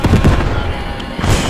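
Tank fire in the World War II game Post Scriptum during the D-Day Normandy landings: a loud booming burst at the start, a rumbling tail, then another blast near the end, close and heavy; no talk.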